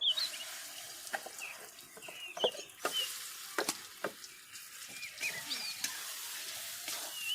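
Ground lentil paste for Bengali dhokar dalna hits hot oil in a pan, giving a soft continuous sizzle with light stirring and scraping clinks, close and fairly quiet.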